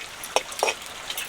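Garlic frying in hot oil as a masala for a village-style fish curry, two brief sizzling bursts over a faint background hiss, close and alone with no talking.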